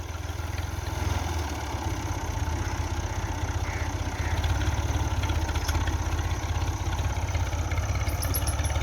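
A Massey Ferguson MF 240 small farm tractor engine runs steadily at a low idle-like chug with faint clatter, close and continuous, with no voices.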